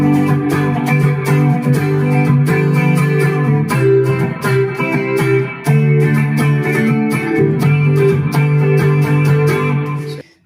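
A clean electric guitar tone through an Mvave Tank G plays ringing picked notes and chords, loud and steady for about ten seconds. It plays alone and cuts off abruptly at the end.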